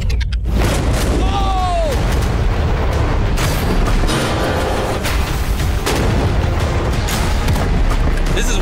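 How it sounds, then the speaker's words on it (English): Loud, booming gunshots are fired outdoors at a shipping container, several heavy cracks spread through a continuous rumble, with people's voices mixed in. "we might as well fire the last few shots"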